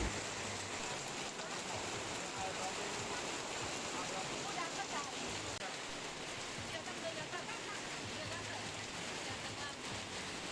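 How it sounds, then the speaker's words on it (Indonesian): Heavy rain pours steadily through the night over an outdoor closing-night festival, a dense, continuous hiss of water at a constant level throughout, with no clear speech standing out. "Malam hari ini hujan turun ya, tadi jam 6, kemudian reda sebentar dan turun lagi kembali hujan."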